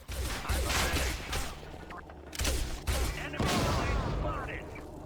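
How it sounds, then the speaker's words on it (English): Bullets and grenades in the video game Quake Wars, with bursts of gunfire and heavy thuds rattling in dense layers and a voice talking over the combat. "the sounds of the bullets and grenades and the grunts of the Strogg"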